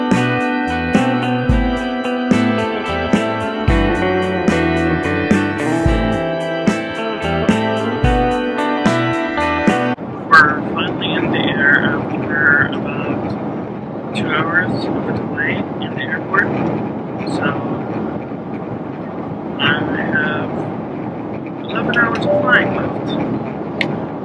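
Steady airplane cabin drone during a long flight, a broad even rush that follows a stretch of music and runs under people talking throughout.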